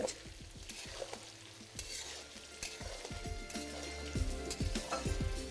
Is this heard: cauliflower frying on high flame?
yes